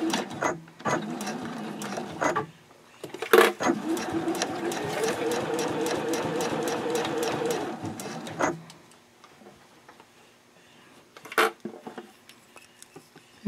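A sewing machine stitches the top seam of a fabric zipper case at a 3.0 stitch length, running in a fast steady whir from about 3 to 8.5 seconds after brief start-stop bursts, with short backstitch spurts near the end.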